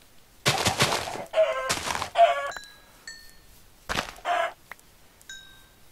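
Chickens cluck and squawk in a UHC survival match within a video game, with several close bursts of bird calls and short chirps, no talk.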